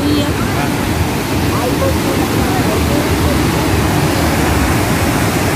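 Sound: waterfall at Cachoeira do Urubu

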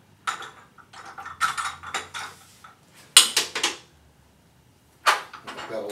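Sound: metal wrenches being swapped and handled

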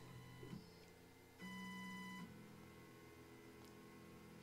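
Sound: Onefinity CNC machine touch probe tapping and moving

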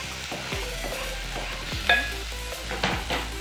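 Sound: grated ginger and garlic sizzling with onions in pan

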